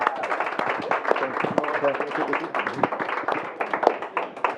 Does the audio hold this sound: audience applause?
yes